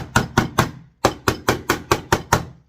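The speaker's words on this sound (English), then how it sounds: "So you do this little hammering." Steel wire for a simple handmade ring is struck with a hammer about ten times in a steady rhythm to harden it, each close, sharp metallic tap ringing alone, with a short pause after the first three blows.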